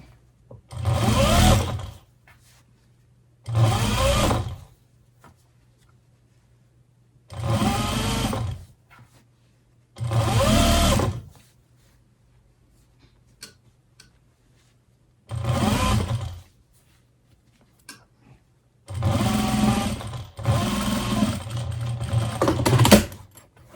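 Sewing machine top-stitching around the lining of a wool cloche hat, running in six or seven separate bursts of steady, fairly loud whirring with short quiet pauses between them and no talk.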